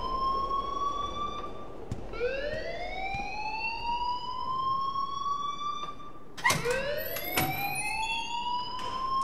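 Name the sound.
alarm ringing in the video game Life is Strange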